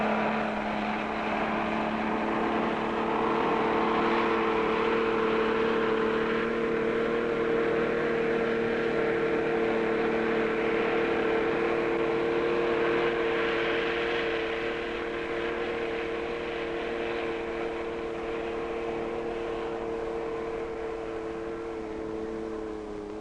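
Motorboats run on a river, their engines producing a steady droning hum with sustained tonal whine that holds at a constant level for over twenty seconds, fairly close and uninterrupted by speech.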